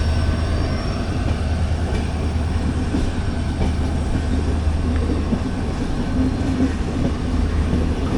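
Inside an AC 3-tier coach of the Chennai–Bodinayakanur AC Superfast, the train rolls over track points with a loud, constant rumbling roar and faint rhythmic wheel clatter throughout.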